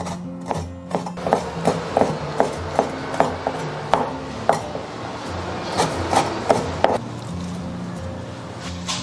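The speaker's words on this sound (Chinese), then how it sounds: "给它切成丁儿哈，不用打。" Knife dicing shrimp on a cutting board, a steady run of crisp, evenly spaced chops close up, about one per half second, with no talking.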